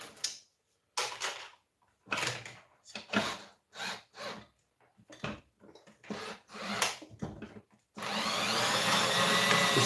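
Scrap cable being stripped by hand, a series of short rasping, scraping bursts separated by pauses, ending in a louder steady whirring noise.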